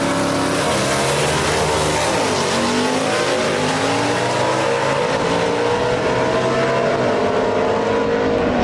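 Gasser drag race at Kil-Kare Dragway between a Chevy II and a 1956 Pontiac, with loud roaring engines revving and accelerating hard, pitch sweeping as the cars launch and pull away, no talk over it.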